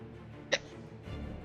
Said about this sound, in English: Oh god, I got the hiccups.